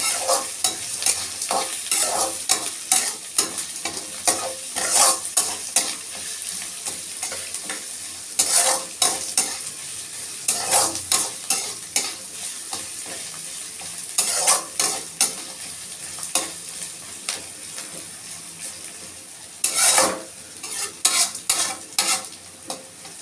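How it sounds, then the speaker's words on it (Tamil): Crushed garlic frying in a pan with cumin for a radish greens poriyal, a continuous sizzle punctuated by repeated sharp spoon scrapes and clanks of stirring, close and fairly loud. "இப்போ கொஞ்சம் பூண்டு தட்டி போட்டு சேர்த்துக்கணும்"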